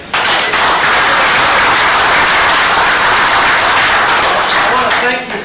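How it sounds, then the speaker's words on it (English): A room of woodturning club members gives Jerry a loud, sustained round of applause at a meeting, dense clapping running steadily throughout and thinning slightly at the very end. "So a round of applause for Jerry."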